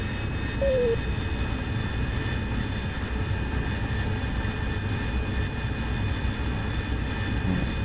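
A Harrier jet engine in DCS World holds a steady, loud whining roar with high tonal whistles layered over a dense rumble, unbroken throughout from the cockpit perspective.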